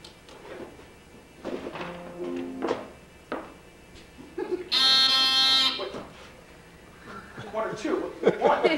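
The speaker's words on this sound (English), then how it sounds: "I could have sworn there were two beeps there" A single electronic beep, a harsh buzzing tone lasting about a second, sounds between stretches of people talking and laughing nearby.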